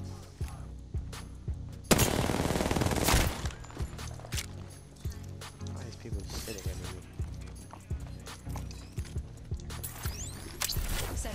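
Rapid bursts of gunfire from the video game Apex Legends, sharp repeated shots in quick rhythm through the whole stretch with a dense crackling blast near two seconds, mixed with game sound and some voice.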